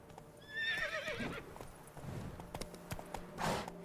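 Roach the horse in The Witcher 3 whinnies in a short, wavering neigh, then hooves clip-clop in a loose, uneven walking rhythm with a few sharper knocks.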